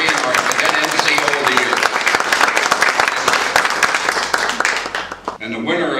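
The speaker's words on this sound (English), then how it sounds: "let's give Cadet Lieutenant Olivea a round of applause for his accomplishments" Applause from a Civil Air Patrol squadron's Christmas banquet crowd honoring a cadet lieutenant, a loud, dense wash of clapping that holds steady for about five seconds before tapering, with a voice starting to speak at the end.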